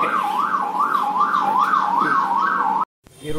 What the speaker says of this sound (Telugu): సైరన్ ఇచ్చి పంపించండి వాళ్ళని,